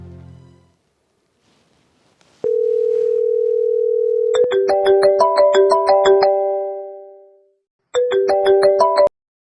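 A phone call to someone being placed: a long steady ringback tone sounds alone, followed by a repeating melodic ringtone of chiming notes that stops, then starts again briefly, loud and close with no voices.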